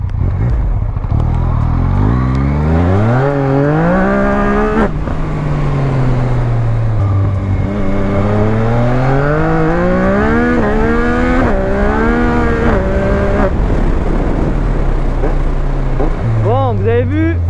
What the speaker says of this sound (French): Déjà cette moto elle envoie.